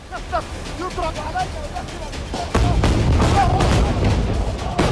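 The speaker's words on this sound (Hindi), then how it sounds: "एक के बाद एक धमाके हो रहे हैं।" Heavy booming explosions in quick succession near a hospital parking area during the Israel-Hezbollah war, loud and close, with a chaotic rumbling background and distant cries underneath.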